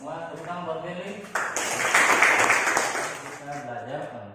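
Students in a classroom give a short burst of clapping for a classmate. It rises suddenly between stretches of a speaking voice, peaks briefly and fades as talking resumes.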